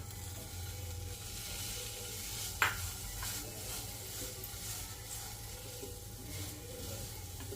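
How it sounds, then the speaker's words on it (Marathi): A blended mixture of betel leaves, coconut and sugar cooks in a kadhai with a soft continuous sizzle and faint scraping from stirring, plus one sharper clink partway through, heard close and fairly quiet. "विड्याची पानं खोबरं आणि साखर मिक्सरमधनं फिरवून घेतलं आहे ते आता आपण कढईत घा घालणार आहोत"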